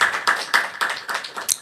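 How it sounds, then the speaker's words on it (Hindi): Students in a small classroom batch of about a dozen clap together, a quick, steady run of close, bright claps with no talking. "एक बार जरा रिस्पॉन्स कर सकते हैं, ताली बजा सकते हैं?"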